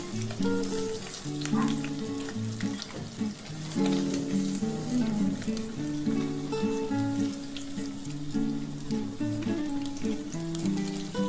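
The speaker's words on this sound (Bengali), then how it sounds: "মাছটা আর একটু ভাজা হলে আমি নামাবো।" Catla fish fries in hot oil with a constant, close sizzle and crackle, bursts of spattering popping over the top, and steady low tones beneath; no one speaks.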